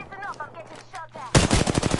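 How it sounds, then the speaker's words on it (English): Rapid video game gunfire erupts loud and dense at a player under attack in a PS4 shooter, a burst of sharp automatic shots following a stretch of voice and background game sound. "I'm getting shot at"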